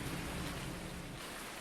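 Rain in the farming video game Farming Simulator 19 makes a steady, soft hiss of falling water, quiet and continuous with no voices over it.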